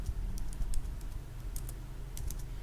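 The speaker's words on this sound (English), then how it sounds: "in the test area, I just type" Fingers type on a computer keyboard in short bursts of crisp key clicks, close and fairly quiet, with brief pauses between groups of keystrokes and no talking.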